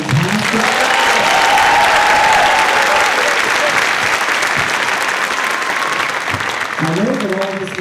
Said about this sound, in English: One more round of applause for our fantastic.